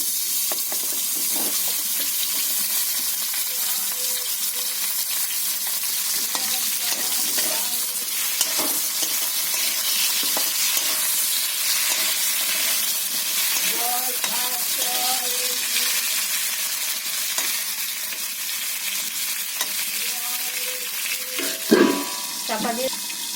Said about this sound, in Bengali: বন্ধুরা আমি বেগুনটা আগে ভেজে নেব।